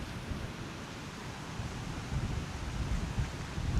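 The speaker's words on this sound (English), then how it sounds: "It is so windy." Strong wind buffeting at Huntington Beach, a low rumbling roar with gusts that swell toward the end, surf mixed faintly underneath.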